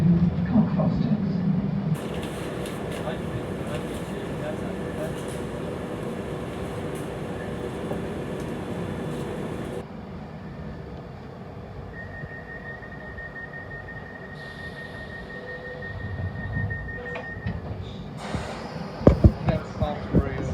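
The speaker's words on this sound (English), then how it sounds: "This is a Piccadilly Line service to Cockfosters." A London Underground Piccadilly Line train running toward Cockfosters, a loud sustained rumble and rattle with a brief high tone; an on-board announcement voice is heard partway.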